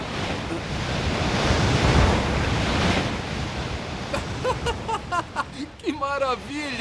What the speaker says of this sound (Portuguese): Este é o mar da minha terra natal.